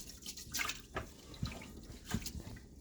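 Food being rinsed under running tap water in a kitchen sink to wash out starch, quiet splashing and sloshing with a few louder bursts as the food is stirred.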